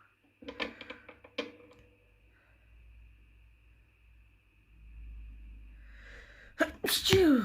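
A single sharp sneeze bursts out near the end, loud and close, after a stretch of faint rustling and quiet background noise.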